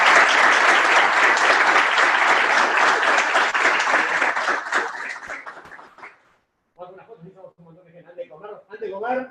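An audience at a .NET tech meetup in Buenos Aires bursts into loud, sustained applause that fades out after about six seconds, followed by brief scattered voices and chatter.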